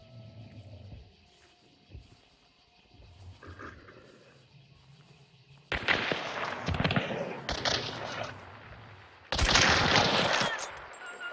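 Gunfire rings out in a Hunt: Showdown match: after quiet ambience and faint voices, two loud, close bursts of shots with echoing tails crack out several seconds apart.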